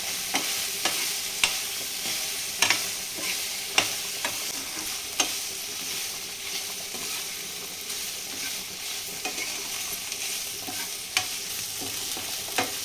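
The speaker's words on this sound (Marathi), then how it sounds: "चांगला आता पनीर आपलं फ्राय झालं आहे यामध्ये।" Paneer cubes frying in a pan with a pinch of turmeric, a continuous soft sizzle broken by periodic clicks and scrapes of stirring, close and without any voices.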